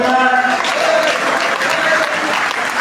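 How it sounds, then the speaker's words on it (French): A church congregation claps and cheers in a dense, steady roar of applause for nearly three seconds, loud and close, with voices mixed into the crowd noise. "nous allons nous lever et acclamer ce grand Dieu qui a libéré Laurent Gbagbo"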